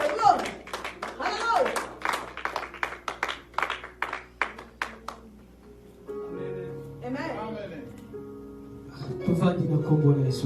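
A short burst of hand clapping from a small crowd, a run of sharp claps mixed with speech and voices that carry on after it fades.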